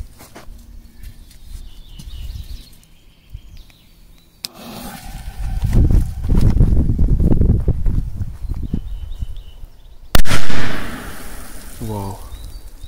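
A Korsar 6 firecracker explodes under a plastic jerrycan outdoors, giving one loud, sharp bang near the end. Quieter handling noises and shuffling come before it, and a short fading echo follows.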